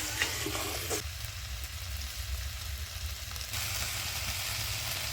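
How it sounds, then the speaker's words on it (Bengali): Mutton pieces with a whole garlic bulb frying in a pan, a soft steady sizzle with scraping stir strokes, fairly quiet and close, no talking. "এরপর 5 মিনিট নাড়াচাড়া করে ভেজে নেব।"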